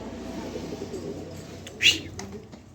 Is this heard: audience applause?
no